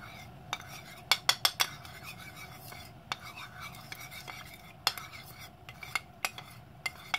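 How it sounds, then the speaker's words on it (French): A potato-starch and water mixture is stirred in a pan with a metal utensil, then worked into a sauce for spring rolls. Sharp clinks and taps of metal on the pan come in irregular clusters over a low background. "Je mélange et puis je mets dans la sauce."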